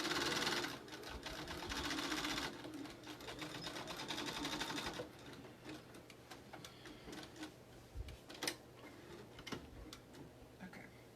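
A sewing machine zigzag-stitching over a raw fabric edge of a face mask, a rapid mechanical ticking that runs briskly, then slows into sparse clicks and soft thumps, heard up close.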